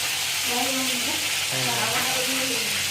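Steady, loud frying hiss of parrot fish in a pan fills the clip, with a voice faintly talking underneath.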